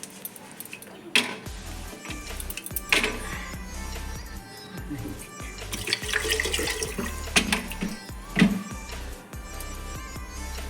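Water pours and splashes onto rice in a pressure cooker being prepared for pulao, with clinks of metal utensils and vessel knocks scattered throughout, close and moderately loud.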